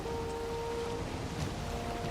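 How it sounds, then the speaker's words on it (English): Rain falls in the Valheim game world at sea, a soft, steady wash of droplets with faint tonal hums of game ambience underneath, quiet and with no talking. "Oh shit, it's raining."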